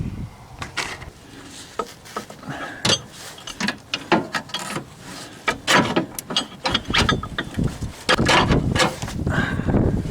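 A lower control arm with a bad ball joint and a broken rear bushing is worked out of a 2006 Chevy HHR, producing irregular close metallic clunks, knocks and rattles in quick bursts.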